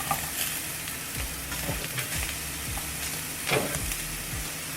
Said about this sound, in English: Stir fry until tender and slightly charred.